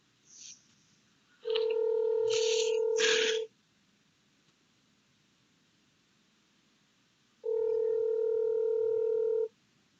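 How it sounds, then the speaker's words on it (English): Telephone keypad tones as a number is dialed, a few quick beeps followed by a steady two-tone burst, a pause, then another sustained tone, loud and clear with no talk. "So we'll go ahead and try Conrad one more time just to see if we can get him on the phone"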